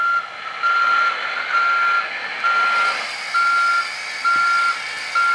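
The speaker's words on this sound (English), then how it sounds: "Totally brake, pushing to right, driving backward." An all-terrain 1/14-scale metal RC hydraulic mobile crane truck with three axles reverses in low gear, giving out a steady run of evenly spaced electronic reversing beeps over a constant mechanical hum, fairly loud and close, with no one talking.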